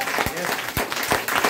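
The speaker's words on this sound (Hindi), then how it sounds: "मैं चाहता हूँ उस परम पिता परमेश्वर के लिए जोरदार ताली" An indoor audience at a motivational program claps in a dense burst of applause that stays loud and close throughout, with a speaking voice heard through it.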